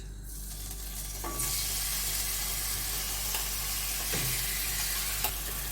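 Chicken pieces for home-made shawarma drop into hot ghee in a pan, and a steady broadband sizzle rises at about the 1.4-second mark and holds, with a few stirring clinks over a low background hum.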